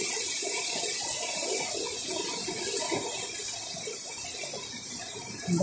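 Rushing water of the Marikina River running high and overflowing after heavy rain, a steady broad wash that fills the whole moment without pause, loud and close, with no talk over it.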